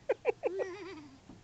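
A small child imitates a sheep, giving a few quick short bleats followed by one longer wavering baa, close and fairly quiet.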